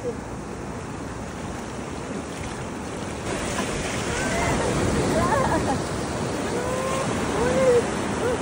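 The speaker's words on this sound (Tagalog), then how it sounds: "Oy! Alon!" Ocean surf rolling in at a beach in Ilocos Norte, a steady broad wash of waves with swells building louder toward the end, while people's voices chatter and exclaim over it.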